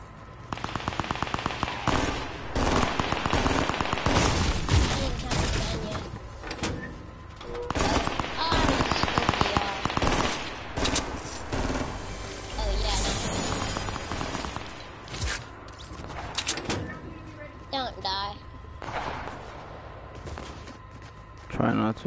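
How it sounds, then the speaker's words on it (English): Rapid automatic gunfire and bursts of shots in a Fortnite Season 5 solo match, loud and dense throughout, layered with game effects while a player talks over it. "Yeah, I can hear the gunshots."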